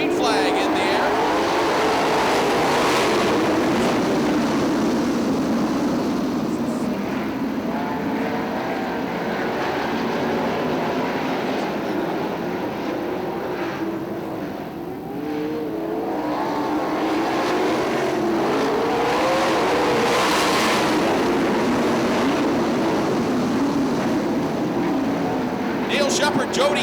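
410 sprint cars race at Fremont Speedway, a loud continuous engine roar that swells and fades as the pack passes, with an announcer talking over it throughout.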